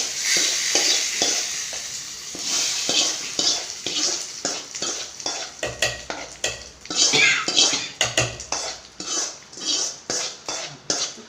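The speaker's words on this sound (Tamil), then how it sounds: "இதை நல்லா கிண்டிக்கிட்டோம்" Amaranth greens being stirred and mashed in a pot, a steady run of close scraping and clinking strokes of a utensil against the pot with a soft sizzle underneath, no talk.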